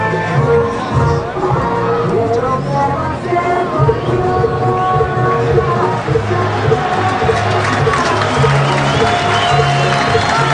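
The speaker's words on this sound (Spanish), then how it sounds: "Algunos aplausos" Stadium crowd at a Chilean Primera B football match, Everton against Deportes Antofagasta in 2011, applauding and cheering as players return to the pitch, a dense continuous roar with yells, and talk mixed in.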